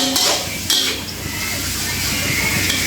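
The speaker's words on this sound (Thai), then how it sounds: "ผัดวุ้นเส้นใส่ไข่นะคะ" Clattering of a utensil scraping and tossing glass noodles with egg in a pan, with sizzling and metallic clinks throughout, close and busy.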